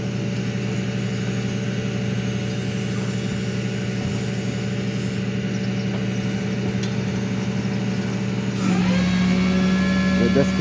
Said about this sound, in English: That car sounds just like a can.